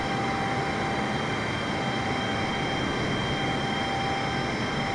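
Steady, continuous engine drone of a simulated aircraft climbing toward 14,000 feet in Microsoft Flight Simulator 2020, a broad even roar with a faint constant tone running through it, unchanging and without talk.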